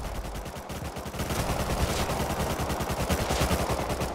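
Rapid automatic gunfire in the survival game Rust, a steady close burst of fast repeating shots that swells louder after the first second and keeps hammering to the end.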